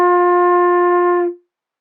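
A single sustained F on a flute, steady and clear, held for just over a second before cutting off, close and alone with no talk.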